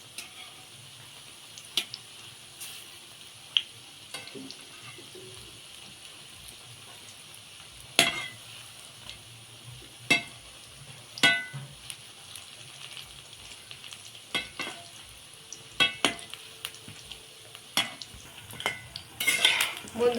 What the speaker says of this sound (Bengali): পকোড়াগুলো একটু উল্টে উল্টে দেব।